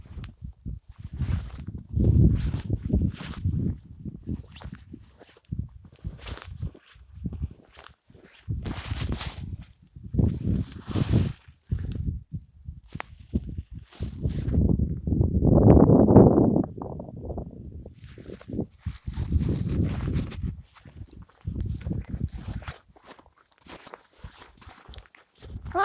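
Footsteps crunch through about ten inches of deep snow on a country walk with two dogs, in an uneven run of soft muffled steps, some louder and closer, with quiet gaps between.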